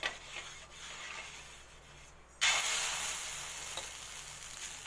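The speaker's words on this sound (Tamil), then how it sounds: "கல் காஞ்ச உடனே இந்த மாதிரி எண்ணெயை தடவிக்கங்க." Oil spread across a hot griddle for paper roast dosa, a faint scraping rub followed by a sudden loud sizzle that flares up and slowly eases off.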